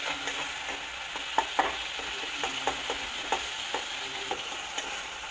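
Tomatoes frying in oil in a pan over a low gas flame give a steady soft sizzle, with repeated light clicks and scrapes of stirring throughout. No one speaks.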